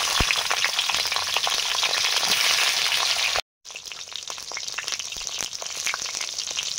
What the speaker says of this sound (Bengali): সর্ষের তেল দিলাম, প্রথমে বেগুনগুলো ভেজে নেব।